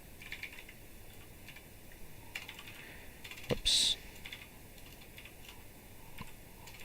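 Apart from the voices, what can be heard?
typing on computer keyboard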